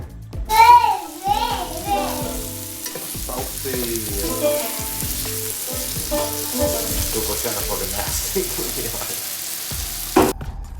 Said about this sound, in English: We're making eggs, we're making sausage, we got coffee going.